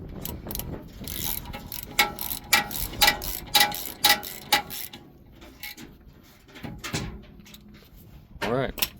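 A ratchet tightens lug nuts on a 2020 Ford Raptor wheel, giving rapid bursts of metallic clicking in quick strokes with brief pauses, close up, and someone speaks briefly over it.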